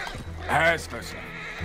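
A horse in Red Dead Redemption 2 gives one loud close neigh that rises and falls over about half a second, set against a low hum of game ambience with a faint voice nearby.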